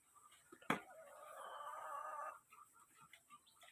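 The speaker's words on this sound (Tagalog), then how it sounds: "Yan yung mga manok andiyan naghihintay pa rin yan" A sharp knock, then a chicken's drawn-out squawking cluck, followed by softer scattered clucks nearby.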